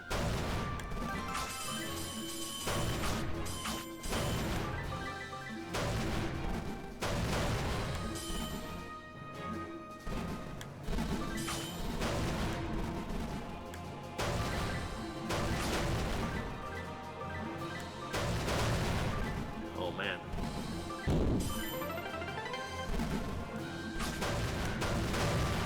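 Bomb explosions in a pinball video game, a dense run of repeated crashing blasts and impacts layered over busy game music and effects, loud and continuous.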